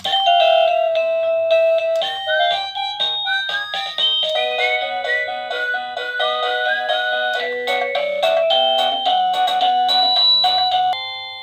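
Anitech DB02-BK wireless doorbell chimes play one after another, bright ringing melodies shifting between different tunes, loud and close with no talking.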